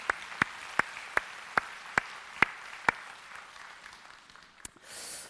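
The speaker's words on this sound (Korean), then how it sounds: "맨 뒤에 우리 박수로 격려합시다" Sparse, sharp handclaps in a church service, about eight evenly spaced claps that fade out, faint and roomy with little else around them.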